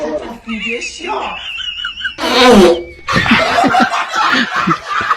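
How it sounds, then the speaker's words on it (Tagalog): A loud, close, buzzing fart rips out between bursts of laughter and chatter, with a brief pause before talking and giggling resume. "Ang lakas ng utot ah. Sapul na sapul."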